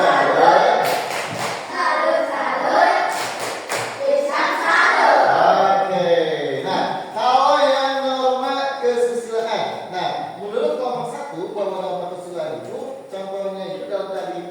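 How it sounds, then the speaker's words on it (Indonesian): A classroom group performs a rhythmic 'tepuk salut' clapping cheer, close by and loud, with chanted voices over repeated hand claps and sharp slaps, continuing as a steady patterned routine throughout. "Kita beri tepuk salut dulu kepada Bisa"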